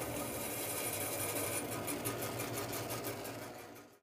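A saw squaring a fireplace log against the fence, a steady loud buzzing cut running continuously before easing off at the very end; no talking.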